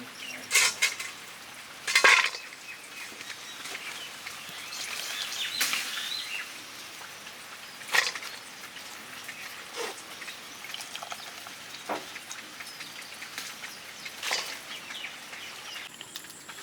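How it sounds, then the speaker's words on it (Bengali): Cut banana flower is washed in water, with soft splashing, sloshing and occasional clattering of a bowl or utensil, fairly quiet and irregular throughout. "মোচাটা ভালো করে ধুয়ে নিচ্ছি"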